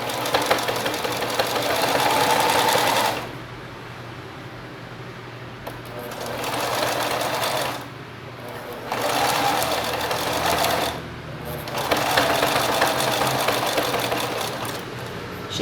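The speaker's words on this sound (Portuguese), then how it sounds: "eu faço com a mão, girando o volante da máquina, viro o tecido com a agulha baixada, viro a peça e vou finalizando" A sewing machine stitches fabric for a small pocket-style holder, its handwheel also turned by hand. The motor whirs in three long runs separated by brief pauses. The mechanical hum is steady and close, with no talking.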